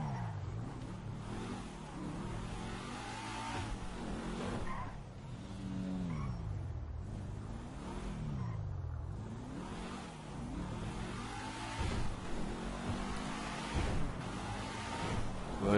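Car engine in GTA V rising and falling through repeated revs and gear changes, with tire squeal and skidding, steady and loud throughout while shifting into second gear on a motorway.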